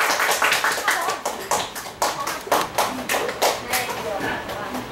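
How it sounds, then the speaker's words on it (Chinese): An audience at a stage performance gives applause, a run of irregular, fairly close claps and taps with a loose rhythm, lasting a few seconds. "掌声鼓励"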